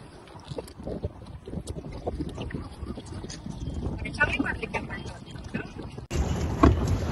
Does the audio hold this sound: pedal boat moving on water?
yes